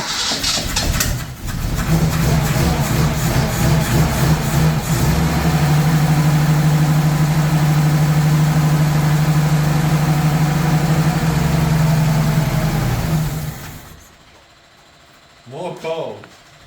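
A long-stored 1983 Nissan Patrol engine runs at a loud, steady idle with a strong low drone for about twelve seconds, then cuts out, leaving near silence and a brief faint sound at the end.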